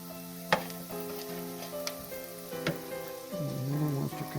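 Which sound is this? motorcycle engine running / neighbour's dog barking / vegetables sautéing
vegetables sautéing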